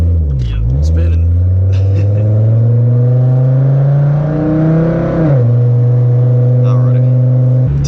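A two-wheel-drive truck on poor tires spins its wheels on loose ground, engine revving in a loud, sustained rising whir that drops off near the end, with a voice briefly heard over it.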